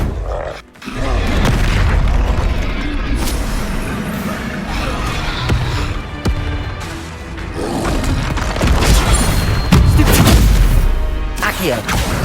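A spell being cast in the wizarding video game Hogwarts Legacy, one of a rapid series of combat spells: loud magical booms and crackling blasts with dense layered effects, continuous throughout with louder bursts near the end.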